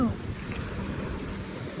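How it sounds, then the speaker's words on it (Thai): Sea waves at Bangsaen beach in Thailand give a low, steady wash mixed with wind buffeting the microphone, fairly faint and continuous. "ทะเลบางแสนค่ะ"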